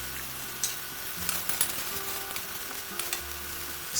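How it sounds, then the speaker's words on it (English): Carrots, young corn and broccoli stir fried in hot oil over medium-high heat, a steady sizzle punctuated by scraping and stirring clicks, close and without voices. "Stir fry this for about a minute till you get some charring on the vegetables."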